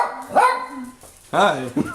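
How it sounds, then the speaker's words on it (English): Dogs barking as a door unlocks and opens, a couple of quick loud barks close by, with a person briefly speaking a greeting over them. "and the dogs start barking."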